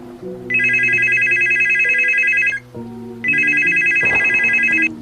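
A telephone rings loudly in two long electronic bursts separated by a short pause, with a low background tone underneath.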